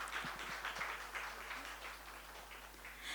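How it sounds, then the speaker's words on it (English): Quiet, steady applause from an audience at a leadership panel discussion during a memento felicitation, a faint continuous patter of clapping lasting a few seconds with no voices over it. "Big round of applause."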